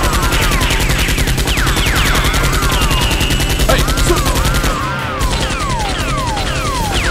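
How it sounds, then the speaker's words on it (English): Loud, nonstop gunfire in a Nerf gun fight between a SWAT team and a criminal group, with rapid shots layered under whizzing, swooping effects and a brief dip in the middle. "Two other SWAT members return fire at Ben."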